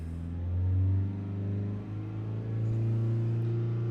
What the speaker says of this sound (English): So I'll take her to 3000 RPM.